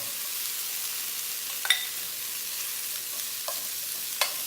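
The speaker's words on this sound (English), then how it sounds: "make sure that the pan is really hot. So usually I go a little bit touch, and then you can actually put all the cauliflower in there" Cauliflower sizzles steadily in a very hot pan, a continuous bright frying hiss with a few soft clicks and clatters as pieces are pushed around, no voices.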